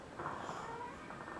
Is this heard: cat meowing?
yes